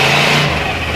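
International truck fitted with a swapped Chevrolet engine, running loud and steady close by with a continuous rough hum that eases slightly partway through, with no talk.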